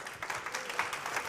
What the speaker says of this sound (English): So big applause and a round of welcome to him